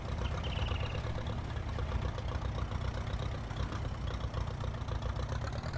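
A tractor engine in the Farming Simulator game idles and runs in a steady, continuous low rumble, loud and unbroken throughout with no talking.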